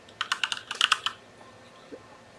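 Someone types a name on a computer keyboard, tapping out a quick, close burst of about a dozen keystrokes in roughly a second before the room goes quiet.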